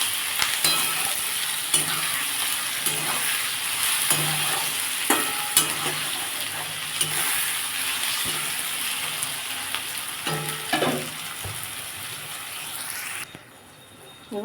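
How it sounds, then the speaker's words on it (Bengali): Ginger garlic paste frying with onions in a pan for a Bengali-style chicken curry gives a steady, close sizzle broken by repeated stirring scrapes. It runs continuously without voices, then drops quieter near the end. "আদা রসুনের পেস্টটা দিয়ে দেবো দিয়ে এটাকে ভালো করে ভেজে নেব"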